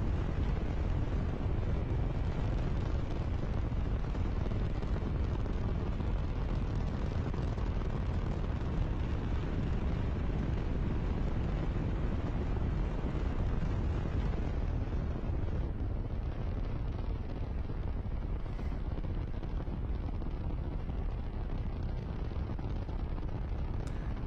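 Rocket engine at launch in modded Kerbal Space Program, a dense, steady, broadband roar that stays loud and unbroken for the whole stretch, easing only slightly near the end, with no talking.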